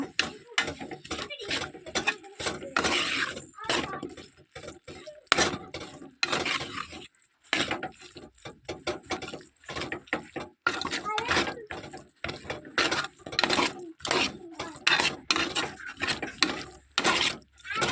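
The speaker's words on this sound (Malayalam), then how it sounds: "നല്ലതുപോലെ മിക്സ് ചെയ്യണം. ചിക്കനിലേക്ക് എല്ലാ അരവും നന്നായിട്ട് പറ്റിപ്പിടിക്കുന്നതിനെ ഇളക്കി കൊടുക്കുക." Chicken being stirred with masala in a pan for chicken sukka, repeated scraping and clattering strokes of a spoon against metal in an irregular rhythm, fairly quiet.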